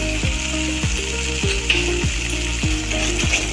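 Masala sizzles hard in hot oil as roasted cumin powder is added for a village-style flattened-rice khichuri, a dense unbroken frying hiss with several rhythmic scraping stirs close by and no voices.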